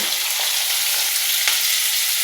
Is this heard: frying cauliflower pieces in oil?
yes